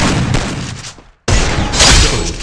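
Rapid bursts of gunfire from the Free Fire mobile battle game, loud and dense, briefly breaking off before another sustained volley.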